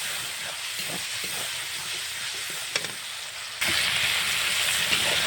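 Ginger and cumin paste fries in hot oil, a steady close hiss and sizzle that swells louder partway through and then holds, with no talking.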